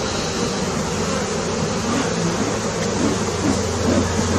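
Tens of thousands of agitated Italian honey bees buzz steadily and densely throughout a July hive inspection, a constant loud drone with no talking.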